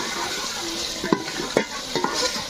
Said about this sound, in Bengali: মটন কষানো প্রায় শেষ পর্যায়ে।